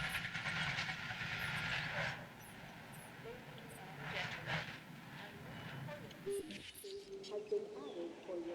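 A monorail in the Jurassic World Evolution game glides past with a rolling rail rumble and hiss, moderately loud, fading toward the end as a few game tones sound.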